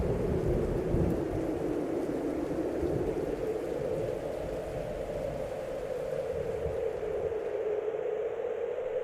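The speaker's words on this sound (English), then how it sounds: "A storm has arisen." Thunderstorm sound effect: a long, deep rolling rumble of thunder over a constant hiss of heavy rain, loud and sustained, fading slightly near the end with no voices.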